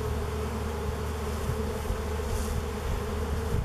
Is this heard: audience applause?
no